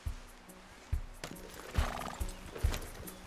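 A horse in Red Dead Redemption 2 gives a whinny amid clip-clop hooves and creaking tack. Several thuds and mechanical clicks come at irregular intervals, fairly quiet and without speech.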